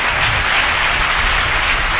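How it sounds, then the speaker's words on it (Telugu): A church audience claps their hands together, a dense, steady patter of many palms filling the hall, loud and continuous with no distinct individual claps standing out. "చప్పట్లు కొట్టు"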